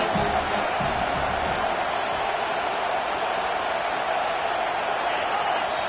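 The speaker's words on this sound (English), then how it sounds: "These fans stepping up to help this defense on 3rd down." A packed stadium crowd roars loudly and continuously at a college football video game, a dense, sustained wall of cheering and yelling on third down.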